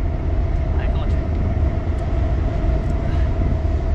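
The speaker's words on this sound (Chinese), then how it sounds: "高铁" A high-speed train thunders past near a bridge on a hot afternoon, a steady, loud broadband roar with rumbling low end that holds for the whole span without a break.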